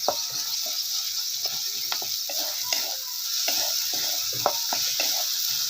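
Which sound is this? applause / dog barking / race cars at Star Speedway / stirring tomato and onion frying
stirring tomato and onion frying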